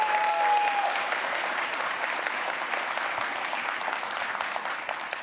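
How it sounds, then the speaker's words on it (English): An audience at a North America developer ecosystem keynote claps in a sustained, dense burst of applause that fades slightly toward the end, with no talk over it. "Big round of applause for them"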